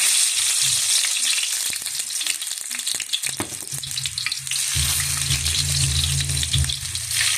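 Chopped garlic sizzles in hot oil in a pan for pork-and-beans menudo, a steady close crackle with brief stirring scrapes that swells fuller and louder in the last few seconds.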